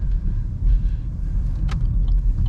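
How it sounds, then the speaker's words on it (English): Car tires churning through snow, a steady low rumble of tire roar and crunching drive noise with no break, close and continuous. "You can hear the car's tires working through the snow that's cutting through"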